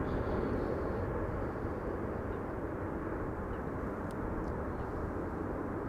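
A large airliner taxiing at an airport gives off a steady, low, broad engine rumble and roar that stays even throughout, heard from a moderate distance with no voices.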